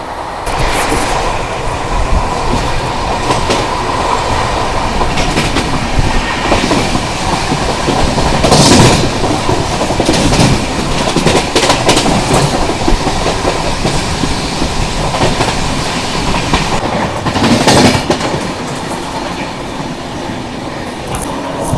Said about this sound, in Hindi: यहाँ पे हम स्किप कर रहे हैं मनमाड़ जंक्शन, और यहाँ पे ओवरटेक भी कर रहे हैं अभी हम मुंबई फिरोजपुर पंजाब मेल को।